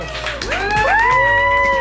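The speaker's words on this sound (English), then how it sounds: "Let's give her a round of applause." A group at a restaurant cheers and whoops for a birthday celebration, with loud rising voices and excited shouts swelling together close by, building in intensity over the short burst.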